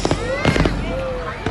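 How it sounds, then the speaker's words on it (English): New Year 2026 fireworks bursting over Kingston, Jamaica, loud close crackling explosions in quick succession with whistling trails and excited voices cheering among them. "Fireworks."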